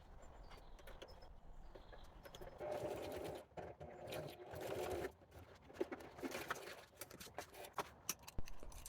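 A sewing machine stitches the paper signatures of a denim-themed handmade journal nearby in rapid mechanical bursts, running steadily for a couple of seconds, pausing, then starting again in shorter runs.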